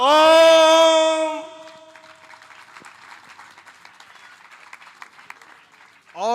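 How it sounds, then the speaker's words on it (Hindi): At a regional Vedic conference in a Hanuman temple in Lucknow, a sustained chanted tone ends and then scattered, fairly faint audience clapping follows, loose and uneven, before a voice briefly returns at the end. "और जोर से ताली एक बार बजाएं आप लोग"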